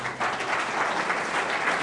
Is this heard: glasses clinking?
no